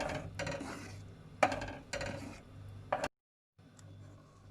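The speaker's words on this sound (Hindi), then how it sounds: "अब इसको अच्छे से चलाना है कि ये मिक्स हो जाए" A spoon scrapes and stirs milk powder into sheer khurma in a pan, four or five distinct rasping strokes against the metal, then a brief silence and a faint return of movement.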